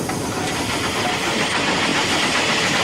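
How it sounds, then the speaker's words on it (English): Classic steam locomotive running on the line, a continuous loud hissing, rushing roar with the engine's churning beat blended into a dense wash of steam and rail noise. "I'm listening to the beat of the engine."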